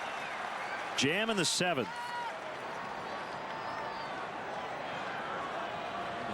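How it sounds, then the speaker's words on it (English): Steady crowd applause and cheering for pitcher Jeff Samardzija at Wrigley Field during a Padres at Cubs baseball game, a broad wash of hand claps running throughout under a commentator's voice. "Here's Jeff Samardzija getting a nice hand from the crowd"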